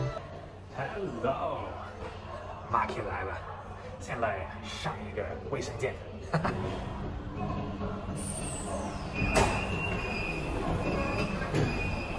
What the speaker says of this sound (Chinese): 去体验一下成都全自动的地铁九号线。